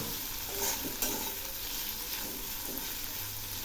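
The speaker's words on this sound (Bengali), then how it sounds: "এখন আমি পেঁয়াজগুলো একটু হালকা করে ভেজে নেব।" Chopped onions and four slit green chillies fry in a pan for a Bengali fish curry, with a steady close sizzle and a few soft stirring scrapes and no talking.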